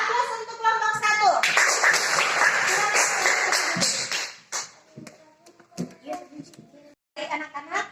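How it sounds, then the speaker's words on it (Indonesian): Classroom applause for a student group, a burst of clapping from many children lasting several seconds, then fading into scattered taps and quieter sounds. "Aplaus untuk kelompok 1."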